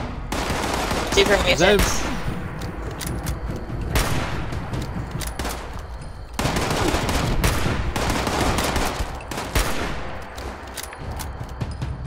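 Rapid bursts of automatic gunfire and volleys of shots from Fallout 76 combat, loud and sustained across the scene, with a startled voice talking over the shooting.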